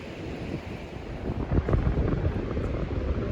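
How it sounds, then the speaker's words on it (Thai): Sea waves wash against a rocky shore near a cave as wind buffets the microphone, a continuous low roar that swells louder toward the middle, with no voices. "เสียงทะเลก็ดัง"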